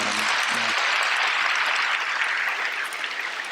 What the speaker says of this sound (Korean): 우리 박수로 한번 환영해 주시기